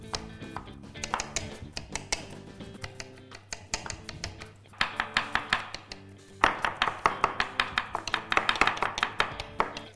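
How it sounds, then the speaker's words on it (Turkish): A knife chops rapidly and steadily on a cutting board, cutting vegetables for salsa, the taps growing louder and quicker toward the end. "Doğrama işlemine devam ediyoruz."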